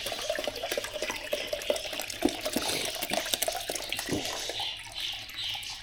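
Water poured into a container to mix instant pellet fishing bait, about 750 ml, a close, uneven splashing and gurgling stream that tapers off toward the end, no talking.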